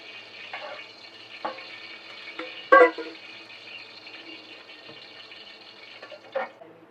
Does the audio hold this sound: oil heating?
yes